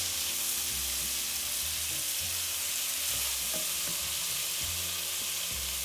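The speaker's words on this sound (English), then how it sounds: "Just for a few seconds you need to saute this" Ginger garlic paste sautés in a pan over medium flame, hissing steadily and close-up while a spoon scrapes and stirs in irregular strokes, over a faint background tone and with no talking.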